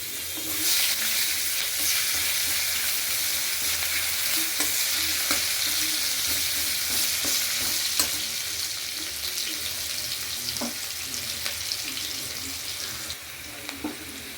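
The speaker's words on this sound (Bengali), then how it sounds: "এবার আমি কালো জিরা ফোড়ন দিচ্ছি দিয়ে একটা ছোট সাইজের পেঁয়াজ" Black nigella seeds and a small onion frying in hot oil for a fish curry, a steady close sizzle with stirring scrapes and occasional clinks running throughout, no voices.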